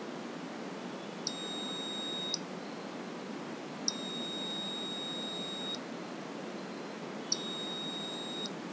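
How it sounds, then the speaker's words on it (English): An Arduino buzzer triggered by an IR obstacle sensor in a simple car-reverse-alarm circuit gives three steady electronic beeps, each lasting over a second, evenly spaced over a constant background hiss, with no talking. "my buzzer should turn on."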